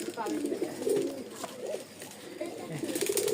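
Domestic pigeons, a female and a male of a tumbler breed, coo in soft repeated low murmurs close by, with someone speaking over them throughout.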